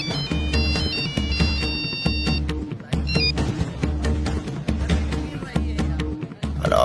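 A mobile phone ringtone from an incoming call, a loud looping electronic melody with a steady thumping beat and bright chiming tones repeating in regular bars, close and alone.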